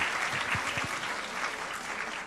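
Applause from a student audience at a tech hackathon session, a dense, even roll of clapping that carries on steadily without pause.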